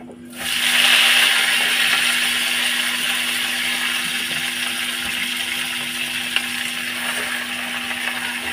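Pumpkin greens are dropped into hot oil tempered with nigella seeds, with mustard and poppy seed paste, setting off a sudden loud hissing sizzle that holds steady and close, fading only slightly over several seconds.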